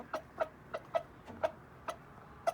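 A rooster clucks in short, evenly spaced calls, about seven over a couple of seconds, fairly quiet with a soft background hiss.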